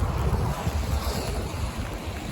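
Sea waves wash along a seaside embankment in Kazakhstan, a continuous surging roar mixed with heavy gusts of wind buffeting the microphone, with no voices.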